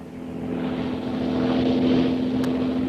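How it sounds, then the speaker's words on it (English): Seaplane in flight high above the Pacific: a steady propeller engine drone with a strong low hum, rising slightly in loudness, heard alone without talk. "Shanghai Lil, flying high above the Pacific in the powerful seaplane piloted by the merciless Karnak the Killer."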